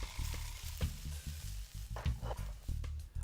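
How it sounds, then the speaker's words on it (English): Potatoes and chopped onions fry in a pan, making soft sizzling crackle with repeated stirring scrapes and bumps throughout. "Fry up 1 cup of potatoes or brine in a pan with a 1/4 cup of chopped onions"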